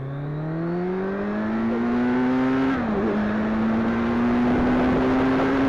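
A 2018 Kawasaki Z900 motorcycle accelerates hard, its engine note rising steadily in pitch, dipping briefly at a gear change, then climbing again, loud and close throughout.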